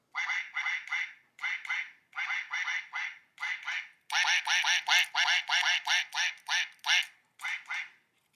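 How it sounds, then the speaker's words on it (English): A cartoonish duck quacks in a rapid rhythmic series, close and loud, in short bursts of repeated quacks that grow busier and brighter toward the end, with no talking. "That definitely deserves a song and dance from the duck."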